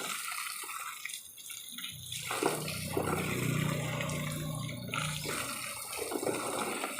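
Water is poured onto a lemon tree in a yard, giving a sustained splashing, gurgling rush. It starts after a quieter opening and carries on steadily, close and moderately loud.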